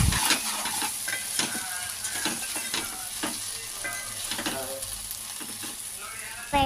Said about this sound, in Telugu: బెండకాయ ముక్కలు బాగా వేయాలి.